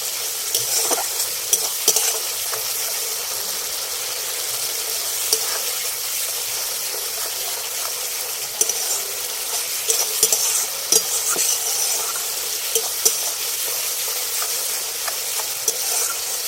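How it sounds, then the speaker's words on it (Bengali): Spice paste with a splash of water is stir-fried in a pan for fish-roe kofta, a continuous close sizzle with frequent scraping and light taps of a spatula, no voices. "জল দিয়ে ভালো করে মশলাটাকে কষে নিতে হবে"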